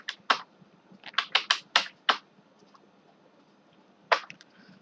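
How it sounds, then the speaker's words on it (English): Computer keyboard keys being typed in short bursts: a cluster of quick, crisp clicks followed by a pause and a single later keystroke, fairly close and alone with no voices. "So I am typing Y."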